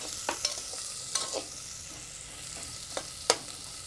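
Onion, ginger and dried red chillies fry in a pan with a steady, soft sizzle, broken by a few light scrapes and clinks of stirring.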